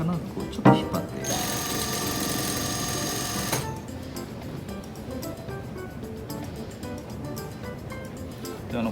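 A sewing machine stitches a straight seam in fabric, a steady whirring motor run of a couple of seconds that then drops to a lower, rougher hum, with someone speaking over it.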